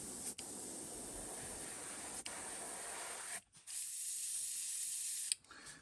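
A continuous hissing spray from a spray gun with a partly clogged nozzle, painting a fishing lure, broken by brief pauses and clicks of the trigger, faint and close.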